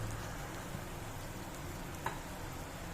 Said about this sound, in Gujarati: તમે જોઈ શકો છો ડુંગળી થોડી શેકાવાની તૈયારીમાં છે